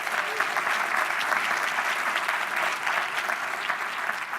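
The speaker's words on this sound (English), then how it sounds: "Let's give them a big round of applause." Big round of applause from an evening startup demo day crowd for sponsor PayPal; sustained, dense clapping from many hands at a steady, fairly loud level.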